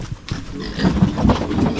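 Pigs newly arrived from Ilocos grunt and snort at close range, a dense run of rough, low grunts that grows busier and louder after the first moment.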